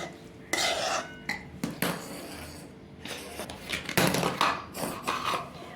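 Tempered vegetables go into jowar batter in a pot, heard as a run of irregular clanks, scrapes and wet stirring knocks of a spoon against the metal pot, close and fairly quiet.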